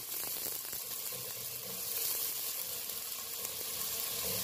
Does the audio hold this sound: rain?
no